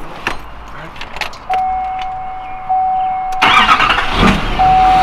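A Duramax diesel GMC Sierra Denali truck, rebuilt after a wreck, cranks and fires up from inside the cab, a warning chime pinging steadily before the engine catches and settles into a loud, rough, continuous rumble.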